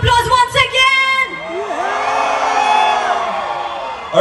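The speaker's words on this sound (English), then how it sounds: "Give yourselves a huge round of applause once again." A concert crowd at Global Village in Dubai whoops and cheers, opening with loud shouts that fade into a sustained roar of voices; the cheering is heard alone, without any speech.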